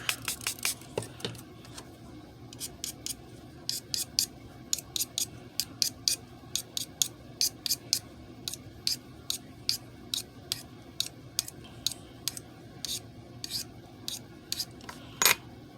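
Knife blade stroked repeatedly across a Spyderco medium sharpening stone, a steady series of bright, scraping rasps at an even rhythm, close and clear against quiet room noise.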